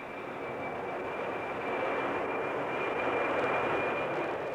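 A specially converted jumbo jet flies with the space shuttle mounted piggyback on top, giving a steady, loud roar of jet engines with a thin high whine, sustained without breaks and no voices.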